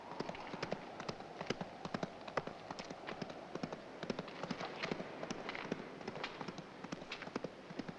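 Rapid clip-clop of hooves beating in a quick, even rhythm, fairly faint and distant, continuing throughout.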